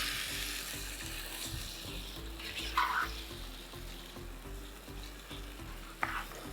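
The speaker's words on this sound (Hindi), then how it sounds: "अब होगी चिकन की भुनाई।" Chicken fries in oil with onions, a steady close sizzle under the scrape of stirring, with a couple of brief metallic clinks and no voices.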